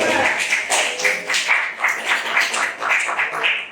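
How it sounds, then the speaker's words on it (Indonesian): A classroom group claps for a student team, the rapid hand claps merging into a loud, pulsing burst of applause that holds steady and then fades. "Oke, tepuk tangan untuk kelompok 2."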